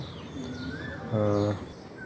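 A pigeon gives a short, throaty coo close by, rising briefly over steady background noise.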